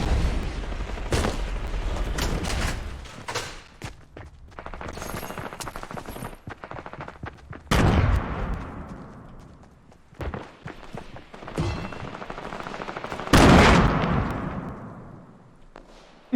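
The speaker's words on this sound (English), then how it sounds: "I gotta zoom in and shoot like that" Rapid bursts of gunfire from the P90 compact SMG in Fortnite, loud and close, with several sharp volleys separated by quieter stretches and faint footsteps between them.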